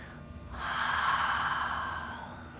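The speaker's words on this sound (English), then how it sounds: "Breathe." A slow, deep breath during a yin yoga pose swells in softly and fades out, one long, quiet exhale-like rush close up in a calm, silent room.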